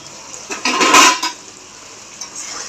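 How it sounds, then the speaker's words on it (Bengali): Raw potatoes tumble into a hot pan with a short clatter and brief sizzle, then settle into a quiet, low simmer for sautéing alongside sugar while making Bengali dhoka. "এবার আলুগুলো ছেড়ে দেবো, এর সাথে কষা হবে আলুটা।"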